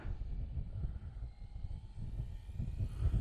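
An F8F Bearcat piston fighter on a crosswind landing approach without flaps gives a steady, close, loud low engine drone with rumbling wind buffeting, and no voices over it.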